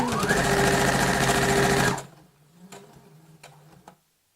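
A sewing machine stitches a seam on a reversible fabric basket, running loud and steady for about two seconds before stopping, followed by a few faint clicks and handling sounds.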